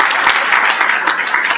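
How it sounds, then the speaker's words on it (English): Dense audience applause fills a ceremony hall at a Caribbean investment gala, steady and loud from start to finish with no voices over it. "please accept our thanks and a round of applause"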